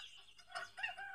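A large caged rooster gives one harsh, brief crow at the tail end of dawn, loud and close, with nothing else around it.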